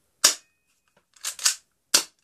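A spring-powered metal Beretta BB gun fires at a target: four sharp, loud snapping shots, the first alone, then a quick close pair, then a final crack, with silence between.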